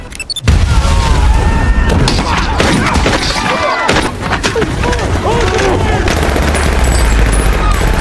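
An action-film gunfight: loud, dense bursts of gunfire and booming impacts with thuds, mixed with shouting voices and a busy score throughout.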